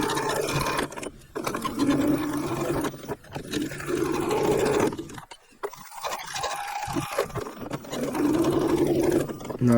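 Sewing machine stitching an X pattern across a tree stand strap, a close rapid mechanical whirring in sustained runs broken by short pauses as the stitching stops and restarts.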